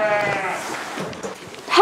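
Lambs bleating on a farm, a wavering close bleat at the start and another rising bleat at the end, with quiet background noise between.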